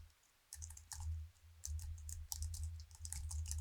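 Keys clatter in quick bursts on a computer keyboard as someone types a name for a saved Photoshop workspace, close and crisp, with short pauses between runs of strokes and a low hum underneath.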